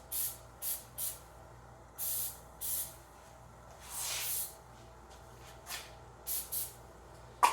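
Oven cleaner sprays from a nearly empty aerosol can onto chrome plating in a series of short hissing bursts, some quick and some longer, with pauses between them, close by and fairly quiet.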